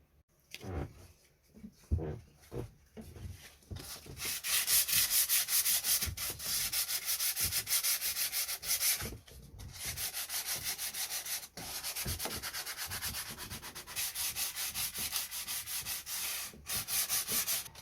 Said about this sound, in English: It'd be better if I had decent sandpaper